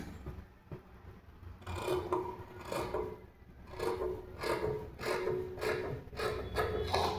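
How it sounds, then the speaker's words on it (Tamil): Scissors cutting blouse fabric to shape a V neck, a series of close, crisp snipping and rustling strokes repeating in an uneven rhythm, with no speech. "பாருங்கள், கட் பண்ணி காட்டுறேன்."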